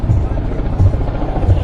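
Kamov Ka-31 Navy helicopters pass overhead at a beach flypast, their rotors a loud, low, rhythmic chop that pulses about every seven tenths of a second, with a voice talking over the noise.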